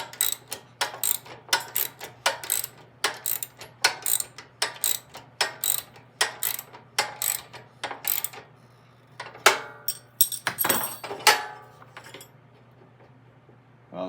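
Ratchet cranking a self-locking nut on the drive train of a 33-inch Snapper mower, a fast run of sharp metallic clicks in bursts with short pauses, close and loud over a steady low hum.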